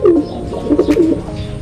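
Racing pigeons coo in a short, loud, close burst of low throaty warbling calls in a loft, with no talking.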